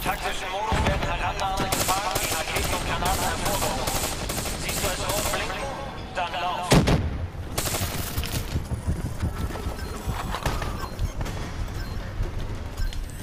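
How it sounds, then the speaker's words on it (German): Rapid bursts of automatic gunfire and single shots from Call of Duty Black Ops III gameplay, dense and loud throughout, with one heavier impact midway and game sounds layered underneath. "Da, guck, du kriegst direkt in die Fresse geschossen."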